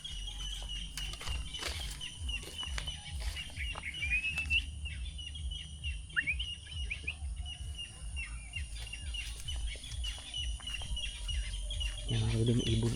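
Birds chirp and tweet intermittently in the distance over low outdoor rumble, with occasional thumps and brief voices.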